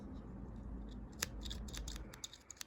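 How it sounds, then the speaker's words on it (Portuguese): Dull, blunt scissors snip off excess crochet yarn, giving a series of short, sharp metallic clicks that grow quicker toward the end, close and alone over a soft background hum. "Tenho que comprar outra tesoura dessa, que essa daqui já tá cega, não tá cortando mais nada"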